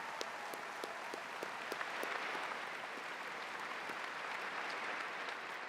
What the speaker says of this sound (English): Please join me in applauding our summa cum laude recipients